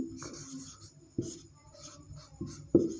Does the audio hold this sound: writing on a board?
yes